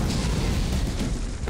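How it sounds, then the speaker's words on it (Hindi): A loud, dense explosive boom from lit firecrackers fills the whole short stretch as a continuous, heavy rumbling blast without clear speech on top. "और ये हुआ धमाका।"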